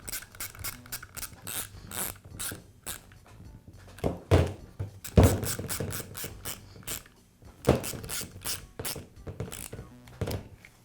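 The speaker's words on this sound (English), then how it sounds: "I'll slide the shoe back into the housing and tighten up the screws." Screws being tightened into the shoe housing of a Milwaukee reciprocating saw during a sleeve repair, with repeated quick ratcheting clicks and mechanical ticks in bursts, close and clear, with no voices.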